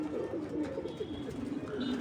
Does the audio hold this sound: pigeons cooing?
yes